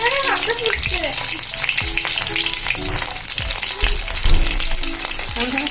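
Dried fish (shutki) fries in a pan with a steady, loud sizzle and occasional stirring scrapes, while people talk over it.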